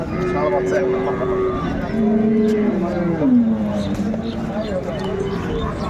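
Cattle, dairy cows and calves, low and moo in drawn-out calls over a busy, noisy livestock market crowd in Ambari, Dinajpur, with people talking nearby throughout.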